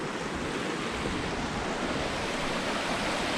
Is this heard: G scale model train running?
no